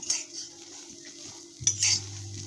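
Fresh cowpeas dry-roasting in a pan without oil, a faint hiss with a few scraping stirs of a spatula close by, and a low steady hum entering partway through; no voices.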